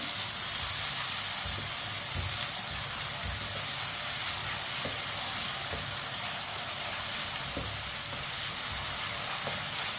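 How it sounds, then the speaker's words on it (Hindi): Finely chopped large onion fries in a pan over medium heat with a loud, continuous sizzle and hiss, broken by the occasional soft scrape of a spoon. The sound is close and steady, with no talking. "मीडियम आंच पर प्याज को हल्का सा ब्राउन करेंगे। प्याज को जलने नहीं देना, चम्मच चलाते हुए भूनें।"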